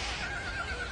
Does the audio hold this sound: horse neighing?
yes